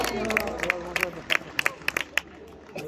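Crowd clapping at a course camarguaise bull game in Vallabrègues, sharp bursts of applause in an uneven rhythm, with babble and voices in the stands underneath.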